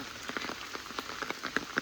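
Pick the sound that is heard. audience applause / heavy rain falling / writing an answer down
heavy rain falling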